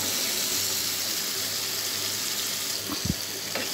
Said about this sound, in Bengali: দিয়ে দিচ্ছি আমি কেটে রাখা বেগুন।